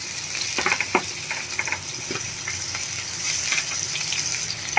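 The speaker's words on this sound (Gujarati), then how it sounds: "તેલ આપણું ગરમ થઈ જાય એટલે પહેલાં આપણે એમાં ડુંગળી એડ કરી દઈશું" Onions sizzle steadily in hot oil for a pizza topping, a dense, close hiss broken by a few sharp scraping stirs early on.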